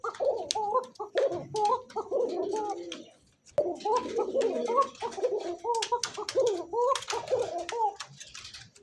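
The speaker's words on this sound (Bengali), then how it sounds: "যে ডাকা ডাকতেছে ককা কবুতর" Koka pigeons cooing at a bird market, repeated close, rhythmic throaty coos in bursts with a short pause, with faint background voices.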